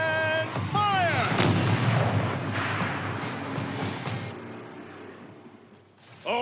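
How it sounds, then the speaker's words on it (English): Heavy turret gunfire in the video game Horizon Zero Dawn, a loud roaring blast with a rising whine that rumbles and decays over several seconds, ending in quieter rustling. "Rotate turret! And fire!"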